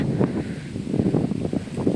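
Strong wind gusts buffet the microphone in rough, rumbling bursts, loud and close, with no voices.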